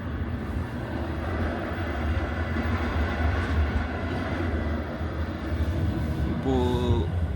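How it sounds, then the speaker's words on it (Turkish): A Daşoğuz passenger train on the Ashgabat line runs with a steady broadband rumble and rolling rail noise throughout, a brief tonal squeal rising near the end. "bir Daşoğuz treni. Aşkabat Daşoğuz."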